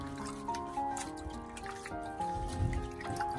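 Celery root being scrubbed and rubbed by hand in a bowl of water, giving soft, close dripping, splashing and trickling sounds at a low level with no talking.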